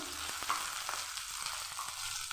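Pieces of katla fish fry in hot oil with a steady bright sizzle, broken by soft irregular crackles and light stirring taps, close and moderately quiet with no talking.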